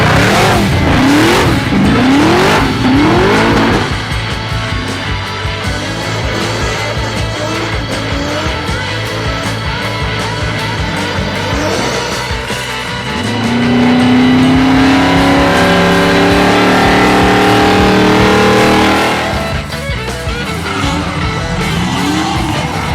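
Chevelle SS muscle car engine revving loudly up close, with a rising exhaust roar, squealing tires and a long sustained high-rev pull in the middle before fading back down.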